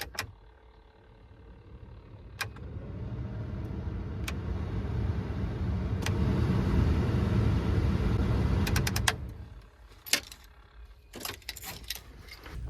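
A 2000 Chevrolet Silverado cabin blower fan whirs steadily on speed 2, building slightly then cutting off, followed by a few clicks and knocks.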